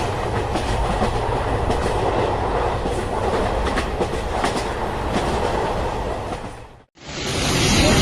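An Indian train runs through floodwater in the rainy season, a loud continuous rumble and rush of wheels and splashing water that holds steady before cutting off abruptly near the end.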